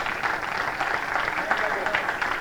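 A church congregation applauding together, a steady wash of clapping with voices mixed in and heard close by.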